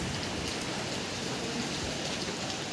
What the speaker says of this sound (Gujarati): વરસાદ અત્યારે ફૂલ ચાલુ છે સુરતમાં કેવું ચાલુ છે જુઓ